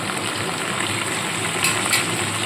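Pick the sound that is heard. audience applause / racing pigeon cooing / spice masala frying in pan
spice masala frying in pan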